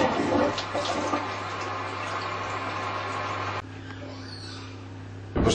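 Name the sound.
toilet flushing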